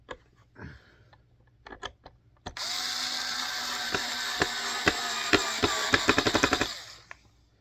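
A cheap drill whirs steadily, then its clutch slips into a rapid run of sharp ratcheting clicks that speed up before the motor stops.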